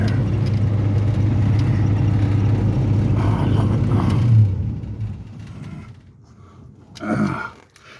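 A 1969 Ford Mustang Mach 1 engine rumbles with a deep, steady high-rev drone that drops off sharply, settling into a quieter idle with a brief surge of revving near the end.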